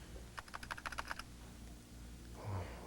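Quick burst of keystrokes on a computer keyboard, a rapid run of light clicks close by, followed by a soft thump and quiet room tone.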